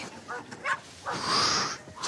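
A search-training dog lets out several short, high whimpers and yips close by, a brief cluster of soft whines followed by a longer whining cry.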